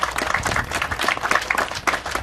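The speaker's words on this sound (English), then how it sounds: "give a round of applause to the government of the United States" An audience applauds steadily at a project launch ceremony in Belize, dense clapping filling the whole stretch at moderate volume with no speech over it.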